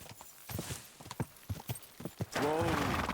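Horse hooves clip-clop in a steady rhythm during a ride in Kingdom Come Deliverance 2, then give way to a louder, sustained burst near the end that may be a neigh.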